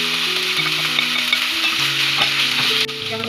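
Potatoes, carrots and meat are stirred in a hot pan, producing a loud, dense, continuous sizzle close up, with faint tonal music underneath.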